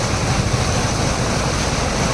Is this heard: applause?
no